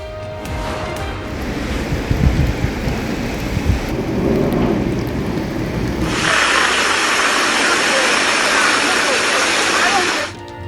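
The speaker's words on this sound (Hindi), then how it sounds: "सऊदी अरब के इलाके असीर रीजन में मूसलाधार बारिश" Torrential downpour with rolling thunder over the Asir region of Saudi Arabia, a dense continuous roar of heavy rain that grows louder and brighter midway, with low rumbles underneath throughout.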